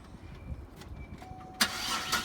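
A Cadillac CTS engine cranks and catches with a sudden loud burst, then settles into a steady running rumble, preceded by quiet clicks and background noise.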